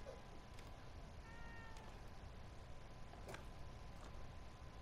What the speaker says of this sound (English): Sebastian, you had a cat in your office?